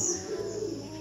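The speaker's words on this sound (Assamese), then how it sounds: "ভালকৈ শুনক চৰাই মাতে শুনিব" Birds call and coo at a quiet rocky hill shrine, soft and steady throughout a short stretch with a faint constant hum beneath.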